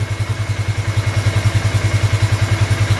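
A motorcycle engine idles close by in a workshop, a loud low rhythmic pulsing that chugs evenly throughout with no talk.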